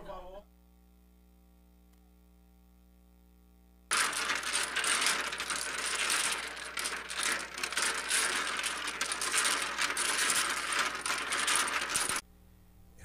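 A deck of playing cards is shuffled up close, a dense, rapid papery riffling that runs for about eight seconds after a near-silent pause, then stops abruptly.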